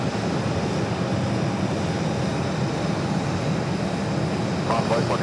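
An airliner landing on runway 8 at Phoenix Sky Harbor airport gives a steady, broadband engine roar that stays even and fairly loud throughout.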